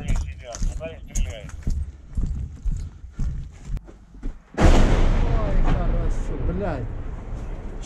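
On a combat frontline, a 150 mm artillery gun fires once midway as a single sudden heavy blast with a long rumbling tail; people talk nearby before the shot.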